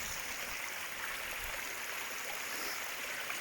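The River Ashop in England's Peak District flows as a steady, broadband rush of stream water, close and continuous with no talk over it.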